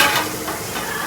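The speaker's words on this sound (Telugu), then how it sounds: "ఉల్లిపాయ వేపుతున్నాను ఇంకా" Onions frying in a pan at home: a steady, close sizzle and hiss with faint stirring scrapes, continuous and fairly loud throughout, without talk.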